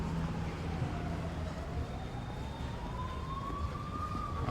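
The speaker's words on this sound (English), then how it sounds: "I'm hearing in the distance lots of sirens." An ambulance siren wails from a distance in a seaside town, its slow rising and falling tone carried over a constant wash of outdoor ambient noise.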